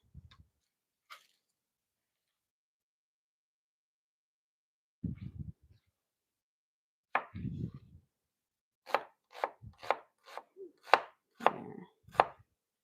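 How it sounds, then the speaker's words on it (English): A knife mincing a small onion on a cutting board: a few isolated taps, then a quick run of sharp, close chopping strokes in uneven rhythm, with silence between. "Mince it up nice and small because you don't want to have huge onion chunks in there."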